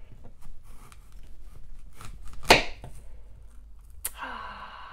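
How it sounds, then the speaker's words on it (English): A knife slices through an apple in one sharp, crisp cut, followed moments later by a brief scrape; quiet room otherwise, no talking. "So I'm gonna cut it in half"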